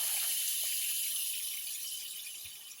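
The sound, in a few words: hot water running for ice dyeing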